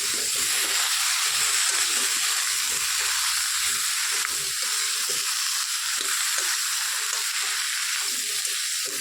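Vegetables sizzling and frying in a covered pan, a steady loud hiss of steam and oil throughout with no talking.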